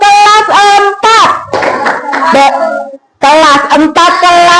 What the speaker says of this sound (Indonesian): kita akan kita kasih tepuk kelas 4. Tepuk kelas 4.